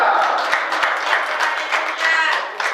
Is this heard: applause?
yes